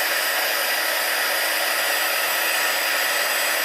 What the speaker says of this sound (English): This one doesn't take as long because my heat gun is warmed up.